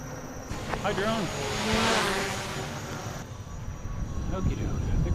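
A small drone's propellers buzz overhead at a windy outdoor spot, a steady whining hum that swells and fades over a few seconds beneath a persistent roar of wind, with a person speaking briefly.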